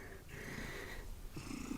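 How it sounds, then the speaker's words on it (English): Very close, soft cat purring with a gentle rhythmic rasp and faint breathy snuffles, quiet and intimate. "so you might hear some lovely cat purring."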